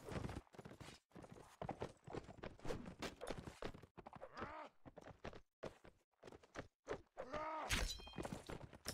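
Horse hooves clip-clop through a steady walking rhythm in a multiplayer strategy game during a Germany versus Russia grand final match, mixed with thuds and a brief whinny beneath continuous energetic commentary.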